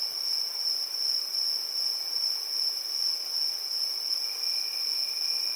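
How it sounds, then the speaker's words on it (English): Steady, unbroken cricket chirring used as a tinnitus-relief sound, a constant high-pitched shrill tone held at an even level over a faint hiss, with no voices. "And number 9 cricket sound 3 is this."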